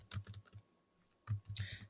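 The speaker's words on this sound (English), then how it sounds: "Start typing or transferring your draft." Quick bursts of typing clatter on a computer keyboard, close and crisp, with two runs of rapid keystrokes separated by a brief pause.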